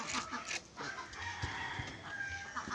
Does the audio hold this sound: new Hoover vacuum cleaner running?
no